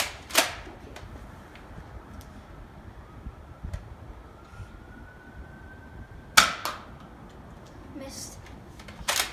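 Nerf Elite 2.0 Echo CS-10 blaster firing foam darts, with a few sharp snapping shots spread through the clip over a busy outdoor background.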